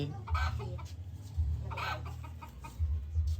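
A chicken clucks repeatedly nearby in short bursts, with a low engine-like rumble in the background.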